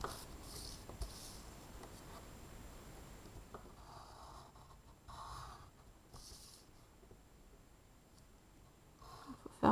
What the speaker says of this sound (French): Puis je vais repasser sur les traits de ma figure.